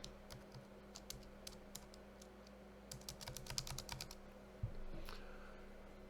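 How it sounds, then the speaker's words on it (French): Computer keyboard keys tapped in short irregular bursts of typing, fairly quiet over a steady low hum, with no voices. "je peux taper mon texte"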